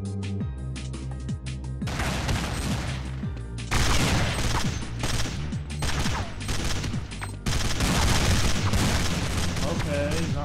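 Desert Eagle pistol fire in Counter-Strike 1.6 on the Dust 2 map during a competitive match: loud, rapid bursts of shots in dense clusters, layered with other game noise throughout.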